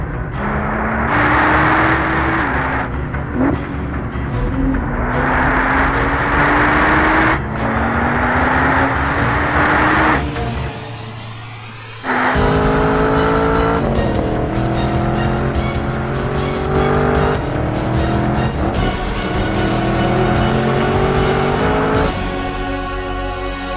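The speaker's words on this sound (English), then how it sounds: "once the track was dry, it was time for Randy to set some fast laps." A 2014 Chevrolet Camaro Z28 or 2014 Nissan GT-R Track Edition laps a race track hard, engine loud and near, rising through gears in repeated sweeps with a brief lift and drop before accelerating again, tires squealing at times.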